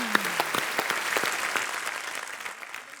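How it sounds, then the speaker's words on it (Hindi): A studio audience at The Kapil Sharma Show, a TV comedy show, breaks into dense, lively clapping that stays strong for a couple of seconds and then gradually thins and fades. "जोरदार तालियां एक बार मनोज भाई और तापसी के लिए"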